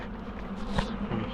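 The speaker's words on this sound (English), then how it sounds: "the bees are fanning to the box" A honey bee swarm fanning at a box during removal from a cavity, a dense continuous buzz of many wings, close and loud, alone without voices.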